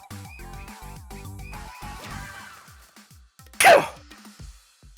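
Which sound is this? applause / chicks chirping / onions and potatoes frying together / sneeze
sneeze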